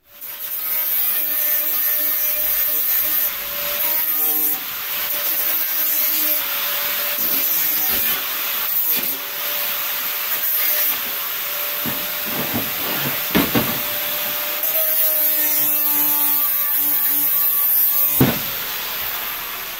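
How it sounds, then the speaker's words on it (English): Continuous abrasive hiss and whine of 50-grit sanding on the corners of a rolled sheet-steel heat shield for a potbelly stove made from recycled gas bottles, loud and close, with brief pauses and changes in pitch. "So I've just rounded off the corners with 50 grit"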